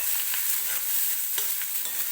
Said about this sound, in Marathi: हा कांदा व्यवस्थित आपल्याला तेलामध्ये भाजून घ्यायचा आहे